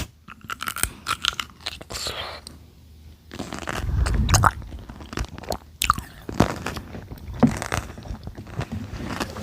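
Loud, close crunching bites followed by wet chewing and smacking, in irregular bursts with brief quiet gaps between.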